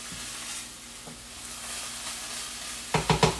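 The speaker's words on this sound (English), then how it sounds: "make sure you stir this because you don't want your broccoli to burn" Broccoli sizzles steadily in a hot pan as it is stirred, a soft continuous frying hiss that ends in a few louder, close scraping strokes of the stirring utensil against the pan.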